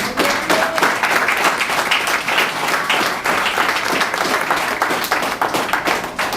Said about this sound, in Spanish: A su nombre, dale palmas al Señor